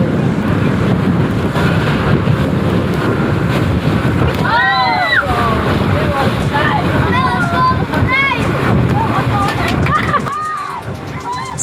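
A speedboat bounces hard over waves while island hopping off Langkawi, with loud continuous wind buffeting and engine roar, splashing water, and excited shouts and voices from passengers riding along throughout.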